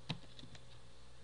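A username is typed on a computer keyboard: a few soft, close key taps, one slightly sharper, scattered over a second in a quiet room.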